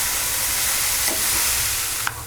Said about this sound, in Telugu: ఇలా వేపుకోవాలండి. ఫుల్ ఫ్లేమ్లోనే వేపుకోవాలి